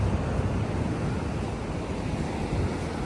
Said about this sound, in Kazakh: Толқындары керемет екен енді